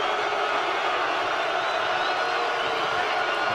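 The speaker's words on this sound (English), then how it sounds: "the crowd is just booing over the words of Andromeda here" A video game wrestling arena crowd in WWE 2K17 keeps up a steady, dense roar of booing and jeering throughout, loud and continuous with no voice over it.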